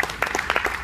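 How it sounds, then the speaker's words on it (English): Short burst of audience clapping at a marketing conference talk, several distinct claps close together and fairly loud. "round of applause for ourselves"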